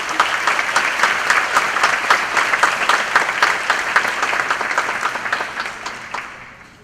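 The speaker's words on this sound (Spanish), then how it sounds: "Aplausos." A hall audience applauds at a university honoris causa ceremony, dense steady clapping from many hands lasting several seconds and gradually fading at the end, no speech over it.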